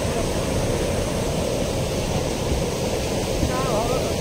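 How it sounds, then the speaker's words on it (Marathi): A waterfall on a river at Palu village in the Konkan, a continuous loud broadband rush of falling water heard up close, steady throughout with faint wind buffeting and a brief voice near the end. "ही सुंदर झरा आहे बघा."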